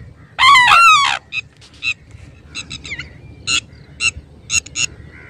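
A pair of sarus cranes calling in a farm field: one loud, long, wavering trumpeting burst, then a string of short, sharp repeated calls spaced irregularly against quiet outdoor background.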